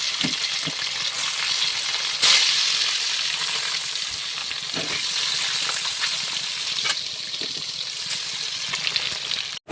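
Fish curry sizzles in a hot pan on a home kitchen stove, a steady, fairly loud frying hiss broken by a few soft stirring clicks and scrapes.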